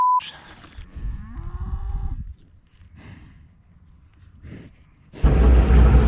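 Cattle on a farm moo with several long, drawn-out calls at close range, separated by quieter gaps, before a burst of loud, rough noise at the end.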